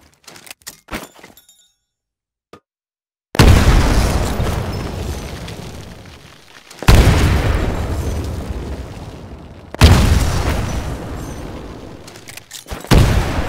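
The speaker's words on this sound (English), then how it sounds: "Throw a grenade into each of the windows." Grenades detonating inside building windows in the Titanfall campaign: three heavy, booming blasts a few seconds apart, each with a long rumbling decay, after a few faint clicks and quiet handling sounds.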